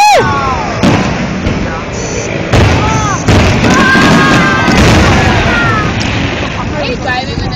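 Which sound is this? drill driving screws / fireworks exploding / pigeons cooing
fireworks exploding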